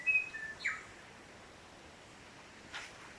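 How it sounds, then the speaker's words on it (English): Birds singing in the trees near Franz Josef, New Zealand, a few short bright chirps and whistles at the start, then quiet ambient air with one more faint call later. "You can hear the birds in the trees."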